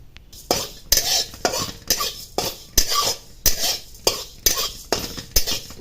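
A spoon scrapes and stirs small moth bean (matki) dal grains as they dry-roast in a pan for Shingori amti. The strokes come in a steady rhythm, close and crisp, with a light rattle of grains and no voices.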